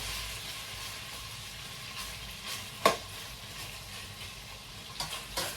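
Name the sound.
frying in oil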